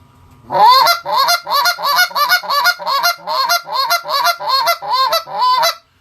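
Goose call blown in a rapid double-cluck rhythm, about a dozen loud, close paired honking clucks with no talk over them.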